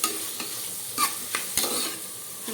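Rice and spices frying in a pan for Telangana-style bagara rice, a continuous close sizzle broken by several spatula stirs and scrapes, with no voices.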